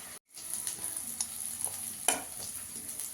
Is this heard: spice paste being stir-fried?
yes